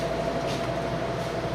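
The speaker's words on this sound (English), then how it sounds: "I'm going to pop them in the fryer." A dense, steady hiss of oil in a deep fryer fills the short clip at close range, continuous and even, with a faint underlying hum.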